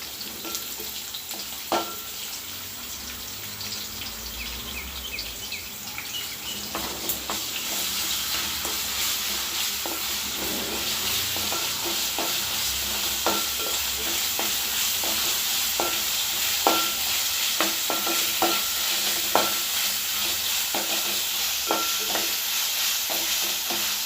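Ginger garlic paste sizzles steadily in hot oil while being stirred for tomato rice, a continuous frying hiss with frequent scraping clicks of the spoon, close and fairly loud, no voices.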